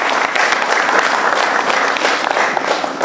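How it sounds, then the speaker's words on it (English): Sustained applause from a conference audience at an energy-access mini-grids session, dense and steady for about three seconds without a break. "Round of applause for them,"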